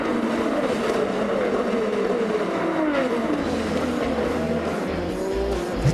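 IndyCar race cars scream through the turns of the St. Petersburg street circuit, a loud continuous engine whine with rising and falling pitch sweeps as cars pass, plus occasional tire squeal.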